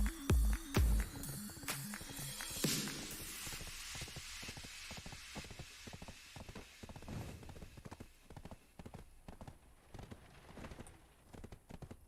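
Hooves of a ridden horse clip-clop in a steady rhythm during video game riding, faint and close under a low background hiss, with a few louder thumps at the start.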